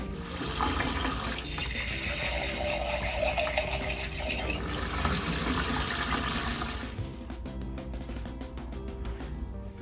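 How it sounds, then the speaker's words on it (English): Water pours steadily from a tap into a pot of home-canned lentils, a continuous gushing splash that eases off near the end. "I'm just going to put some water in here and loosen them up a bit."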